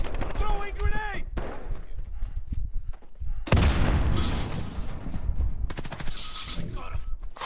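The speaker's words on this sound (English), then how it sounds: "Throwing grenade!" Grenade blast and gunfire in the shooter video game Call of Duty: Modern Warfare, a loud burst of explosive noise mid-clip amid ongoing shots, with players talking over the action.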